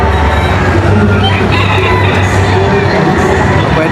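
Roosters crowing amid a loud, dense crowd at a poultry expo, the calls partly buried in constant chatter and hall noise.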